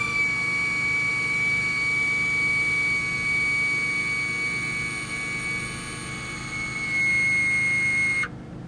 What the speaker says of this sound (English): Ah, the glorious sound of a Ferrari Enzo.